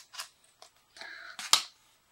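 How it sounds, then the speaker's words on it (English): Scissors snip and crunch through the plastic and paper of a mail package in a few close, sharp cuts and rustles, separated by short silent gaps. "Just use my scissors, I guess,"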